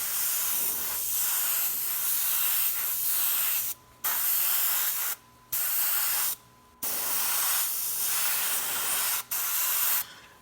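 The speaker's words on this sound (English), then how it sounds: "take your time whenever you're airbrushing, go slow" An airbrush sprays black paint over a miniature model, producing a close, steady hiss in long bursts separated by brief pauses.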